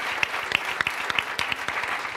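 A smallish audience applauding at a motoring awards ceremony, with distinct, moderately close hand claps forming a brisk, uneven round of applause.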